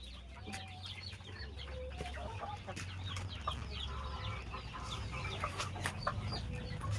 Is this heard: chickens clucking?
yes